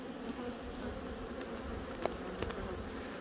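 Honeybees buzzing at an open hive on Dartmoor: a faint, continuous low hum with a few brief louder buzzes as single bees pass close.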